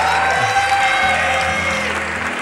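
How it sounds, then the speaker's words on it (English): An audience at the Miss World 2013 pageant keeps up steady, loud applause for a contestant, with tonal music sustained underneath throughout. "Please give her a very big round of applause."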